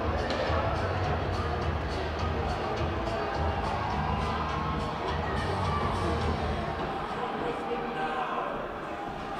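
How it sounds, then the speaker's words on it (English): A rowdy crowd at an Augsburg college hockey game roars and cheers during a scuffle on the ice, a thick, steady wall of voices heard from within the arena while a commentator talks over it. "The crowd's getting rowdy."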